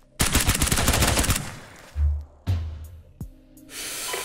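Rapid automatic gunfire in a dark-map squad shooter bursts loud and dense for over a second, followed by several separate heavy single shots and thuds spaced apart, then a lingering hiss.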